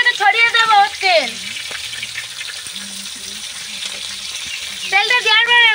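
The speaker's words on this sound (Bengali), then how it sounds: "এবার তেল দে, হালকা করে উপর থেকে ছড়িয়ে দেবো তেল।" Fish frying in oil in a pan, likely freshly caught pond fish, with oil drizzled over it; a continuous close sizzle runs throughout, with a voice talking at the start and again at the end.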